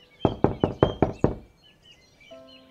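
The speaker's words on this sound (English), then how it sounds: "coming down on the wooden door and knocking." A hoof knocks on a wooden door: six firm, evenly spaced knocks close by, then quiet with a faint high chirp or tone near the end.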